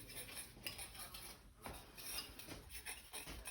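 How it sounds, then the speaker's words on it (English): Light metallic clinks and scraping of a fork stirring a no-bake cheesecake mixture in a bowl, quiet and close, with irregular taps and no voices. "I'm gonna mix it a bit with a fork"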